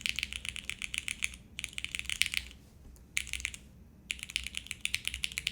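Fast typing on a TKD Cycle7 mechanical keyboard comes in four bursts of crisp, rapid key clacks separated by brief pauses, close and clear with no talking.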